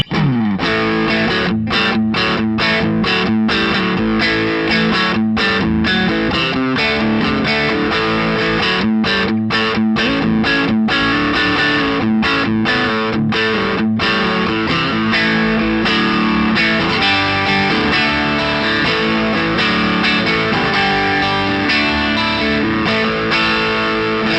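A bright, twangy Telecaster-style tone from a Charvel Guthrie Govan signature electric guitar plays steady strummed chords and picked notes alone, lightly driven and crisp, staying loud throughout.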